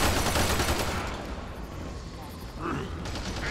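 Rapid gunfire in Warframe, a dense rattling burst that fades midway and picks up again near the end, with a voice briefly heard.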